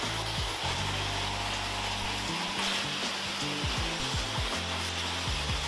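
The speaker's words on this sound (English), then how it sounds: "When you're using a blow dryer and a round brush" A hair dryer blows with a constant loud roar throughout, while a round brush rubs and scrapes rhythmically through hair close by.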